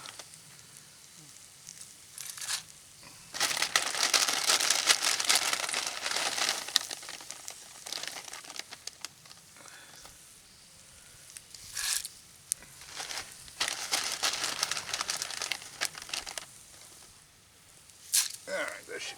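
A fragile plastic bag of egg noodles crinkles in bursts, loud rustling stretches broken by pauses, close by, with sparse talk alongside in a camp setting.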